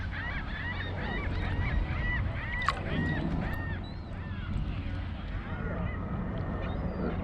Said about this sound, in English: just a couple of seagulls making all the noise